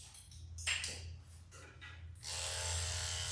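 Electric clippers buzzing over a dog's tail fur during grooming, a close steady hum with shifting brushing passes that grows louder and fuller toward the end.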